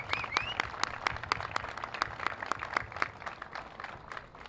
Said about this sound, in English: How about a big round of applause for everyone?